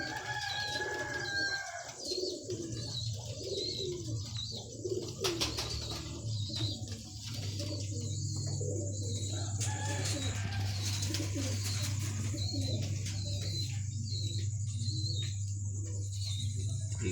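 Pigeons coo in soft, throaty murmurs amid other bird calls and a background hum, with faint voices now and then, continuing throughout.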